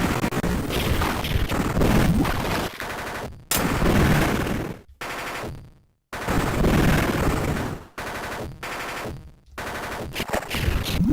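Gunfire in the General Chaos video game: long bursts of dense rapid machine-gun fire, loud and harsh, broken by short silent gaps between volleys.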